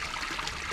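Water flows steadily from a spring, a continuous close trickle and splash that holds at an even level with no talk.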